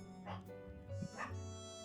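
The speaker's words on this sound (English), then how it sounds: "Do you guys hear Ellie barking?" A dog barks faintly in the background, two quick yips within a couple of seconds over a steady low hum.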